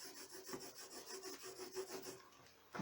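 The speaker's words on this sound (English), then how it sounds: "just gently at first burnish across the book edge" A bloodstone burnisher rubs back and forth across the gilded edge of a book, giving a steady dry rasping scrape with rhythmic strokes, close and fairly quiet, with no voices.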